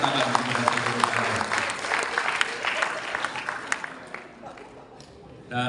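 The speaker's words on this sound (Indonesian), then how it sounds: "Kita beri tepuk tangan kepada Golkar." Audience applause at a Golkar party fast-breaking gathering with Kosgoro, a dense burst of clapping filling most of the clip that thins out toward the end, with crowd noise beneath it.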